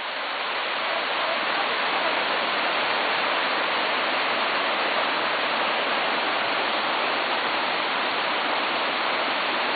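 A waterfall roars in a steady, dense rush of white water, loud and constant throughout without pause, no voices present.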